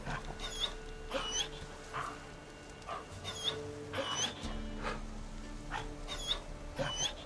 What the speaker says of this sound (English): Wolf stuck in a trap.